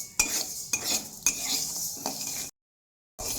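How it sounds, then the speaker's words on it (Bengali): Moong dal dry-roasts in a dry kadai while a utensil stirs it, a scraping, rattling sound with several sharp scrapes of metal on metal and a gritty rustle between them, ending in a brief gap. "মুগ ডালটাকে অনেকক্ষণ ধরে নাড়াচাড়া করছি কড়াতে, শুকনো কড়াতে।"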